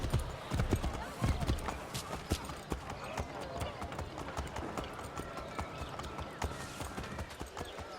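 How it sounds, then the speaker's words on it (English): Horse hooves clip-clop in a steady rhythm as a rider travels on horseback in the video game Assassin's Creed 3, close and fairly quiet. "Horse riding."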